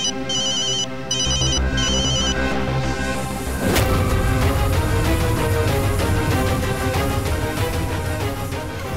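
A telephone ringtone chirps in repeated electronic bursts, then gives way to a loud, dramatic music sting.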